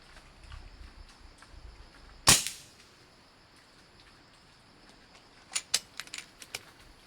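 Gunfire from an ammunition grouping test: one sharp, loud shot rings out with a short decaying tail, followed later by a quick cluster of fainter, more distant cracks over quiet background.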